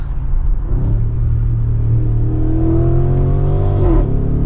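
A 2024 Audi SQ8 V8 engine rumbles steadily close by, then revs up with a rising, throaty growl, loud and continuous.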